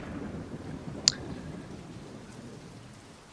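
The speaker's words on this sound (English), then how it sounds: "I am listening to the storm" Rain from a thunderstorm in the video game Scars Above hisses as a quiet, even wash, with one sharp tick near the middle and no voices.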